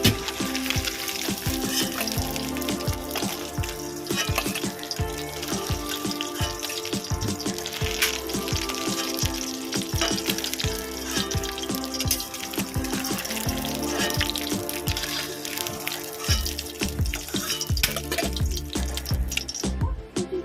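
Eggs frying in oil in a pan, a loud, dense sizzle and crackle running throughout with frequent spatula stirs and scrapes, close up and without talk.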